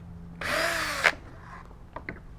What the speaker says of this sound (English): Got all of it drilled out